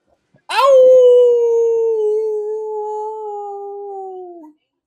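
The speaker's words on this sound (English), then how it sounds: "Just a warning, my dog's about to bark." A dog lets out one long, loud howl close by, rising sharply then holding a sustained, slowly falling tone for several seconds, with no other sounds.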